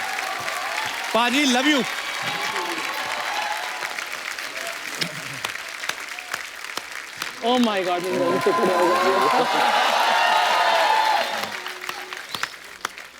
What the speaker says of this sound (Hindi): सोनू बाजी के लिए एक बार जोरदार तालियां हो जाएं।